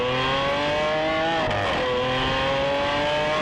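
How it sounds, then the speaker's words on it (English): Lamborghini Aventador supercar exhaust, a loud sustained engine roar with rising and falling harmonic pitch as it revs and passes, continuous throughout with no talk. "The Aventador's exhaust note is one of the most distinctive sounds I have ever heard"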